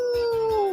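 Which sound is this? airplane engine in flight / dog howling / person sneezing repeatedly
dog howling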